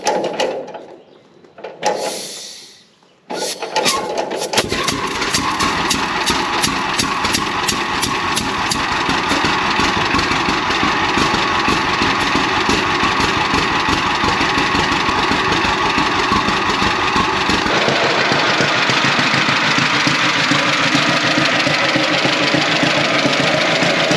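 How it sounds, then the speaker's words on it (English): Antique two-cylinder tractor engine sputtering through a few cranking attempts, then catching and running steadily with a loud, close, even chugging beat, the tone shifting slightly near the end. "So it's a 2-cylinder tractor, and you release the compression so it's easier to crank."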